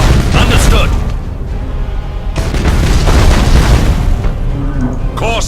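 Torpedo launches in the space strategy game Battlefleet Gothic: Armada, heard as deep booming blasts and rumbling bursts over continuous battle noise, with brief game voice chatter in between.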